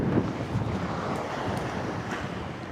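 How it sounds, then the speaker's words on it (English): A strong westerly wind drives sand across a beach in the Philippines, roaring in a loud, continuous rush that buffets the microphone, with surf noise mixed in. "whoa, sandstorms"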